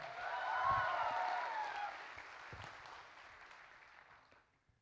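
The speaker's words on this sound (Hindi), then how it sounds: "तालियां।" An audience at a sponsored community event in Bengaluru bursts into applause, the clapping peaking early, then thinning and fading away over a few seconds.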